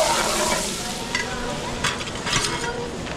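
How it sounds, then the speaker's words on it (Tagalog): Garlic and onions sizzle and crackle in a hot pan, stirred with a few scraping clinks, while cooking a large batch of chicken spaghetti for food packs at a school. "papupulayin ko lang ng konti yung bawang, sibuyas natin"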